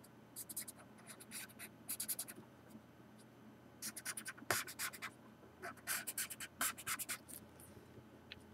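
Pencil or pen strokes on paper while sketching a rough isometric drawing, coming in quick bursts of scratchy lines separated by short pauses, close and fairly quiet, with no talking.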